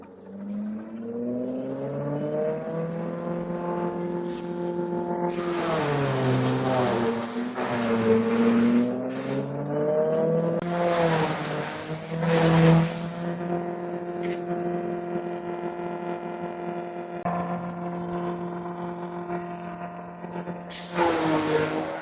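A corn silage chopping machine running steadily with a harmonic mechanical drone that surges as material is fed through in bursts, loud and close, with no talk.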